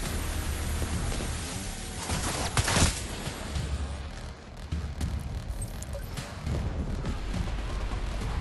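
SMG bursts from the video game The Division 2 rattle over a dense, noisy battle soundscape, one louder crack standing out among steady gunfire and debris.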